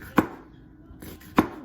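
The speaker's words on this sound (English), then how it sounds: "So just keep chopping." Two sharp knife chops on a cutting board through vegetables for a Greek pasta salad, spaced about a second apart, close and crisp with quiet room tone between.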